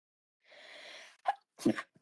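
A single person sneezes up close: a drawn-in breath followed by two sharp bursts of the sneeze, then a faint trailing sound.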